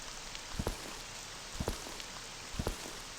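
Steady rain falls in the video game Blue Blood, a constant hiss broken by clusters of low thuds about once a second.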